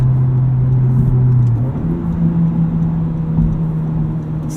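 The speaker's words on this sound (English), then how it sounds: "All you hear coming from the engine is boost." A Honda Civic Type R driving, its engine droning steadily with a low tone that steps up in pitch midway as boost builds, heard from inside the cabin with no talk.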